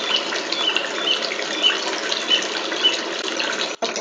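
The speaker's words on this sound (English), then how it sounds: "So let us listen to the noise of water too." Running water gushes in a loud, steady, close rush with a brief cutoff near the end, alone and with no voices.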